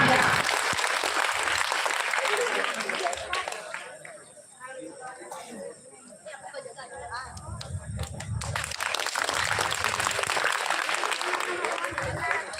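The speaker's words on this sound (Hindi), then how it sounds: "जोरदार तालियां" Loud applause from a comedy show audience swells at the start, fades to scattered claps under a speaking voice midway, then returns as full, sustained clapping.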